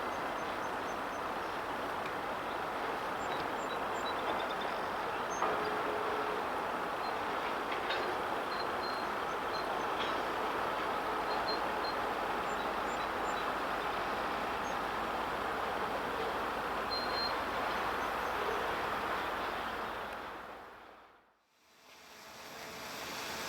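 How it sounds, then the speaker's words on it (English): Norfolk Southern freight train 12Z from Roanoke rolls across the Rockville Bridge bound for Enola, a steady, broad rumble and rattle of cars held constant for about twenty seconds before briefly cutting out and resuming. "On the last mile of its journey from Roanoke, 12Z brings its train across the bridge bound for Enola."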